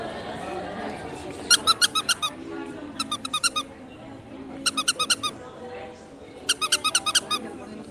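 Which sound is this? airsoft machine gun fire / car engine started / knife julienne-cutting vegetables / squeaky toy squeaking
squeaky toy squeaking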